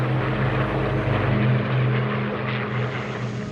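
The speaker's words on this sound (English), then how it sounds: "When it turns away from you, you get the full blast of those engines." Piston engines of a Battle of Britain-era propeller warplane roar loudly and continuously as it passes and turns away, a deep droning growl with a steady throbbing hum.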